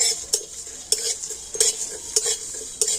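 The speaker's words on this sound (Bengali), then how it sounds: "এই মশলাগুলো তো একটু হালকা করে ভেজে নেবো" Spices roast lightly in a dry pan for raw mango pickle. A faint hiss sits under sharp, evenly spaced metal scrapes and clinks from stirring, about five or six strokes, with no speech.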